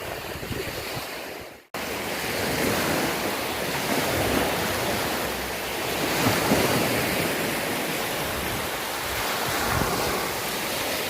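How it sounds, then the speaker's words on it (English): Steady surf washing onto shore with constant wind buffeting the microphone, loud and continuous after a brief cut near the start. "Yes, I'm on the beach."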